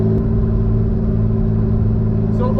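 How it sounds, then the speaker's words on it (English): Twin-engine Mazda MX3 cruises with only its front engine running while warming up, giving a loud, steady mid-range engine drone with a humming tone under it, close and unbroken, with no talking. "I've only got the front engine running."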